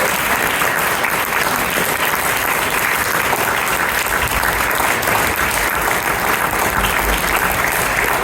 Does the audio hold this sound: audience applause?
yes